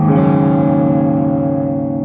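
Electric guitar through a run-down rig on a pushed clean tone with a touch of overdrive, one full chord ringing out loud and sustained, its gritty harmonics slowly decaying over about two seconds with no talk.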